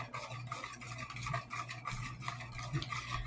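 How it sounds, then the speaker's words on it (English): Steady scraping stir of a spoon through banana pudding in a pot as it thickens, a continuous close rhythmic swishing with slight clinks, no talking. "It's supposed to thicken up as I stir."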